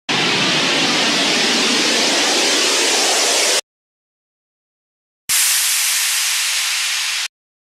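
Synthesized noise risers and downward filter sweeps in an electronic track made in FL Studio: two loud, dense hissing white-noise bursts, the first longer, separated by a brief silence and each cut off abruptly.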